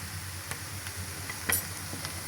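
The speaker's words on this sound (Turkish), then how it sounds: "Şehriye de burada kavrulsun." Vermicelli toasting in oil in a pan alongside onions, a steady low sizzle with occasional scraping stirs and a sharper clink near the end, fairly quiet and without talk.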